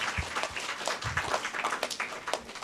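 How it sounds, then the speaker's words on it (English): Applause breaks out for primary school spelling bee participants at a 2017 competition in St. Lucia, a short burst of scattered clapping from a modest crowd, fairly close. "Give them a round of applause again, teachers."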